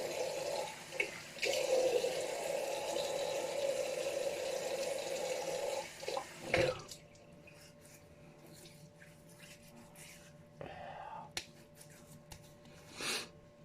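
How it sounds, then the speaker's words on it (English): Tap water runs steadily into a bathroom sink before a wet shave, a continuous hiss for the first six seconds that cuts off, followed by quieter drips, taps and handling sounds. "Water."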